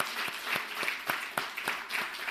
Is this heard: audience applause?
yes